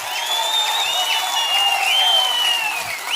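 A crowd at a roadside political rally claps steadily and fairly loudly for a few seconds, a continuous patter of hands with no clear voices over it.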